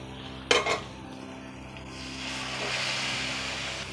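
Pre-fried prawns drop into a tomato and onion masala in a pan, giving a brief clatter followed by a rising steady sizzle close by.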